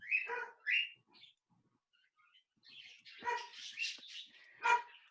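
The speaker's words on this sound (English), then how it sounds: "apparently there's something to bark at" Dog barking indoors during a lecture, a few sharp barks at the start, then a pause and a louder burst of several barks and yips, fairly close and standing alone without talk.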